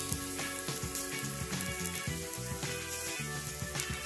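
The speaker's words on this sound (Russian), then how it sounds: "И теперь будем жарить шашлык в течение 25 минут, иногда переворачивая," Steady close sizzling of shashlik meat on a grill, a constant crackling hiss with small pops throughout.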